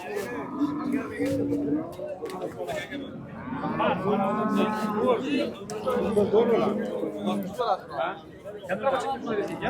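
Cows low at a busy cattle market in Qarshi, one drawn-out moo standing out midway, under constant nearby talk and crowd chatter.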